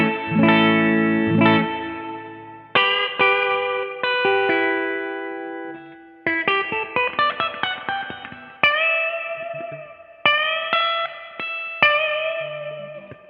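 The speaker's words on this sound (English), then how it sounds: "Reverb's at max." Electric guitar played through a reverb pedal set to maximum, its strummed chords and single notes followed by long, washy tails that ring on between strikes, loud and alone.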